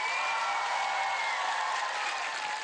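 Studio audience on a televised stand-up comedy contest breaks into steady, dense applause mixed with light crowd noise, filling the room evenly at a loud level throughout.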